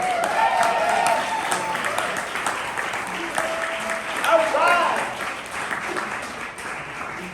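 Sustained audience applause for a poet at the Atlanta Spring Fling 2023 poetry slam. The clapping is steady and continuous, with a host's voice talking over it.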